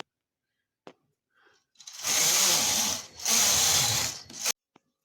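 A knitting machine carriage run across the needles while knitting a cardigan back, two loud rasping sweeps of about a second each with a few faint clicks before and after in an otherwise quiet room.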